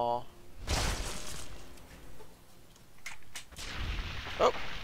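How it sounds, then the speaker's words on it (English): A rail cannon fires in modded Fallout: New Vegas, sending out sharp, loud blasts with crackling tails. One big shot hits early and further bursts follow near the end amid other game noise. "And sizzled by the rail cannon."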